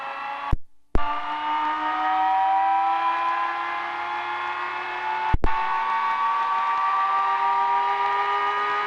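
A gyroplane engine revs up steadily to spin the rotor before takeoff, a loud sustained whine with climbing pitch and two brief clicks or dropouts, no talking.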